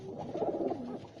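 A single soft, throaty coo from a tournament racing pigeon, close and fairly quiet, lasting about a second with no talking.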